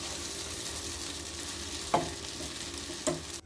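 Chicken cooking with oregano in a pan, a steady frying hiss with two brief stirring clatters near the end, close and moderately loud, no voices.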